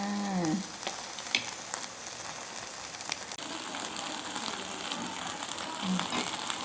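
Continuous sizzling and frying of pork on a hot Thai mu kratha grill pan, close up, with occasional clinks and a few faint voices in the background.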